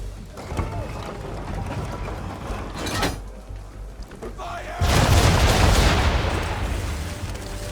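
Ship cannons boom in an Assassin's Creed III naval battle, scattered heavy blasts and then a big roaring volley with a long, crashing tail, with voices speaking over the action.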